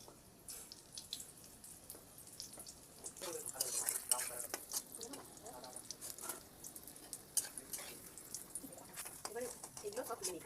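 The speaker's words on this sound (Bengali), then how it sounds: "ওগুলো সব ভেজে নিচ্ছি" Paneer cubes frying in hot oil for chilli paneer, a soft sizzle broken by repeated scraping and clattering as a spatula stirs and lifts pieces in the pan, close by.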